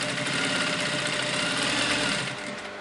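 A sewing machine runs steadily, back-stitching through a buckram pinch pleat, a loud continuous whirring hum that eases off slightly near the end, with no talking.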